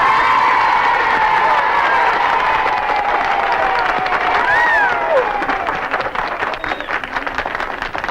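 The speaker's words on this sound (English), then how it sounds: "let's give her a big round of applause" A large crowd at a Mary Kay Cosmetics event greets chairman of the board Mary Kay with loud sustained applause, cheers and whoops, a dense roar of clapping with high excited shouts rising over it.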